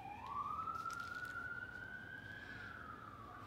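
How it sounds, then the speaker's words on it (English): A fire engine siren heard from a distance outdoors, one long rising wail that climbs and holds steady, faint but clear over a constant low rumble of background noise, with no talk. "And there's my friend the Fire Engine."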